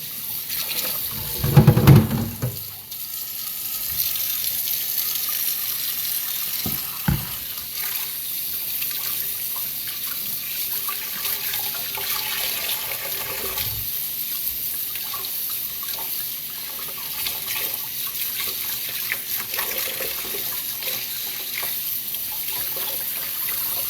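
Tap water runs steadily into a kitchen sink while a cast iron skillet is washed, with a burst of splashing and clatter at the start and then a constant hiss of flow.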